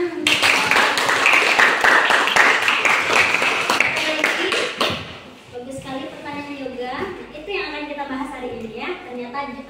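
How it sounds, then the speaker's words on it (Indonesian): Applause in a classroom during a teaching practice session, a dense burst of clapping for about five seconds that gives way to a teacher's voice speaking over a quieter room. "Beri tepuk tangan."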